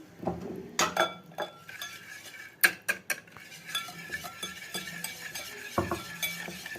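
A spoon stirs a mixture of half a cup of powdered sugar with melted ingredients for rumoush el sit cookie dough, scraping and clinking against the bowl in an uneven rhythm of close, sharp knocks with softer scraping between them.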